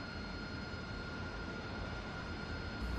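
AV-8B Harrier jet engine idling in the DCS flight simulator, a steady broadband roar with a constant high whine, unchanging and continuous throughout.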